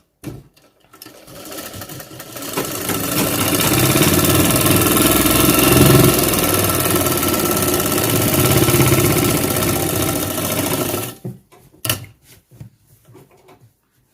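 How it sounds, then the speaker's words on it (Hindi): A sewing machine stitches a double seam on tailored trousers, whirring loudly and steadily for about ten seconds after a few short starts, then stopping, followed by faint handling clicks. "डबल सिलाई मार लेंगे।"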